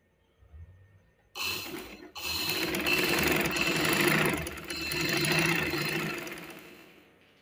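Domestic sewing machine stitching lace onto a dress, running loud and steady for several seconds after a brief start-stop, with a whirring motor and rapid needle clatter.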